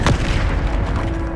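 Bombarda spell exploding in Hogwarts Legacy, a loud deep boom at the start rolling into rumbling debris and a low sustained tone, no voices.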